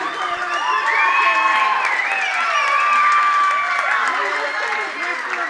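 A high school boys wrestling crowd at Fennimore cheers, shouts and claps loudly after a pin, a dense, sustained roar of voices and whoops lasting several seconds with people calling out over it.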